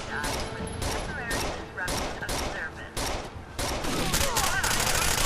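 Bursts of rapid automatic gunfire from an inaccurate rifle in the Rainbow Six: Vegas 2 shooter game, several sharp volleys in quick succession at moderate loudness, with voices talking over and between the shots.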